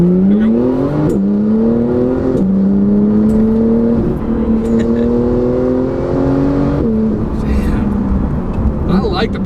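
A tuned Porsche 911 991.2 Carrera 4S accelerates hard through several gears, its engine note climbing in pitch and falling back at each shift, loud and close from inside the car, with a voice talking over it.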